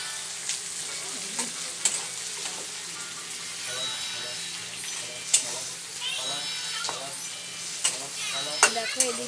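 Potatoes for a meat curry frying and being stirred in a pan, a continuous close sizzle with scraping and clinks of a utensil, and a voice talking faintly underneath.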